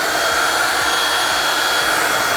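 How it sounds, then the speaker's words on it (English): Handheld vacuum cleaner running inside a camper van, a loud, steady broadband whir with a high motor whine, continuous and close with no talking. "And here I got a vacuum."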